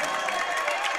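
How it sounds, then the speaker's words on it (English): A high school student section cheers at an IHSA regional semifinal basketball game, a dense steady roar of crowd voices and applause filling the gym for about a second. "Williamsville student section cheering for the points"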